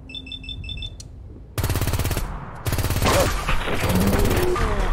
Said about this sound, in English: Oh, I shot his head off.